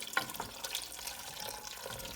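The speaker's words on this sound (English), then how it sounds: "and now Jake, we're ready for some water. So we can put hot or cold water in" Water poured into a soup pot over cut vegetables, a soft, faint splashing and trickling running continuously at close range.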